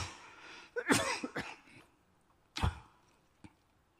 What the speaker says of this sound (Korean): 제가 가끔 기침을 하는데